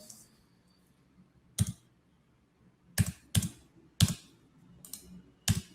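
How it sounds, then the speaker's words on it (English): Sharp individual keystrokes on a computer keyboard, sounding as isolated clicks spaced about a second apart in a quiet room, with no talking. "So I'm just typing from my keyboard right now"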